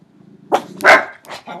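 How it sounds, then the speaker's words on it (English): A dog in a home barks several times in quick succession, loud and close, with a couple of sharp barks and a growly edge, over quiet room noise. "Sorry, dog barking like crazy."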